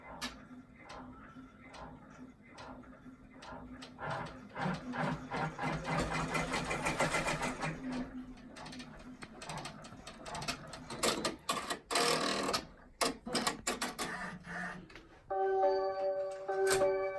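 A sewing machine runs in rapid bursts of stitching as a loop is sewn in place on a zippered credit-card bag, with short pauses between runs and a clear, close mechanical whir.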